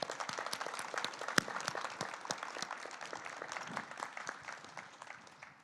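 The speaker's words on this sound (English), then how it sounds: "Can we please have a round of applause for them?" An audience gives an expert panel a round of applause: dense, steady clapping from a room of people at moderate volume, thinning slightly toward the end.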